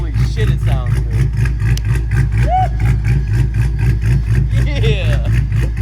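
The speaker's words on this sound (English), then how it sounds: "I've never heard a Hellcat sound like this." A Dodge Hellcat V8 fitted with a choppy aftermarket cam idles loudly nearby, its lumpy, rhythmic loping pulse steady throughout while people talk over it.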